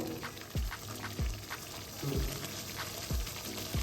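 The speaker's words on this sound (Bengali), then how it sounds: "গ্রেভিটা ফুটে উঠেছে" Gravy for malai chicken kofta bubbles in a pan, low burbling pops and plops recurring every half second or so over a faint steady simmer, close and soft, no voices.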